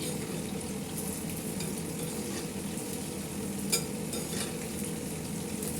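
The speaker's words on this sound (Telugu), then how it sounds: "ఇప్పుడు వేగుతుంది." Boondi frying in hot oil for boondi laddoo makes a steady, close, even sizzle with faint scraping and stirring and a single small clink, no talk.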